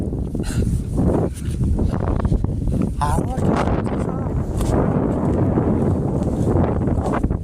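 Strong wind gusts roar across the microphone in a snowy forest, a steady loud rush filling the whole stretch while a person talks over it.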